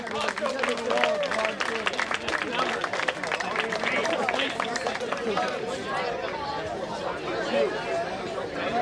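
A high-school sober grad night audience claps and cheers after a magic card trick, dense applause mixed with crowd chatter that stays loud and steady throughout.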